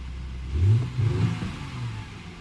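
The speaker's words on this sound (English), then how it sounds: "Let's get this engine started, see how it runs." An Audi Q5 3.2 FSI engine, just repaired at its upper timing chain tensioner, idles low, then revs up in a couple of throaty bursts before settling back to a steady rumble.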